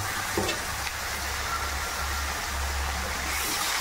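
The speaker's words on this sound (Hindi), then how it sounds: "अब मैं यहाँ डालूँगी ये जो हमारे जो बेम्बू शूट है इसे, मैं इसे डाल के फ्राई करूँगी।" Bamboo shoots hit a hot pan with chicken and fry in a dense, continuous sizzle, with a brief clatter at the start.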